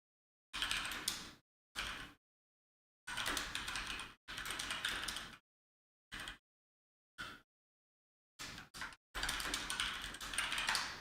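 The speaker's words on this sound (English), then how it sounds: "Now it picks up my typing too" Keyboard typing picked up by a nearby microphone during a Trails of Cold Steel game session, heard as separate bursts of rapid key clatter broken by short silences, fairly faint and with no talking.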